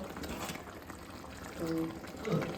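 Water pours steadily into a pot of paneer butter masala gravy with a dense, hissing splash that lasts the whole moment, with a faint murmur of activity in the background.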